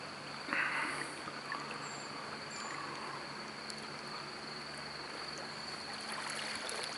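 River flowing at a fly-fishing spot, a steady broadband rush of water close by, with faint insect chirps in the background.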